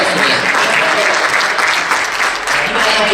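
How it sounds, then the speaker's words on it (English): Church congregation clapping during a sermon, a loud, close, sustained burst of many hands filling the room without pause. "Yes, you can clap for that."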